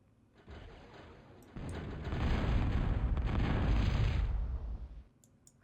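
Bombing explosions in a real-time strategy game swell into a dense, rumbling barrage, building in two steps, sustained for a few seconds, then cutting off, with faint interface clicks around the edges.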